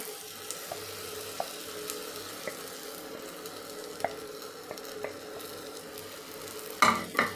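A spoon stirs and mixes fried beans in a pan with soft, regular scraping clicks over a faint sizzle, ending in a louder clatter near the end, with no talk.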